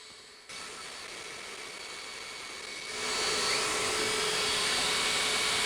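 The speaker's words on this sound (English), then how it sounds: "apparently this machine will engrave up to 300 millimeters a second" A Two Trees TTS 20 Pro laser engraver runs at high speed, giving a steady fan-like whir and hiss that steps up louder partway through, close and continuous with no talking.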